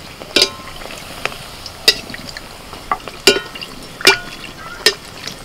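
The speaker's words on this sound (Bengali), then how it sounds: "প্রথমে ছোট কচুরিটা ছাড়ছি, তেলটা ঠিকঠাক হয়েছে নাকি" A small sattu kachori fries in hot oil with a light sizzle under a series of sharp, separate pops and ticks, close by and with no voices.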